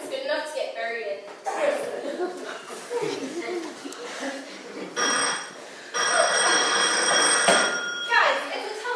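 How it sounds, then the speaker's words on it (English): An old-style telephone bell rings repeatedly in an office scene, with chuckles and voices around it. "it's a telephone."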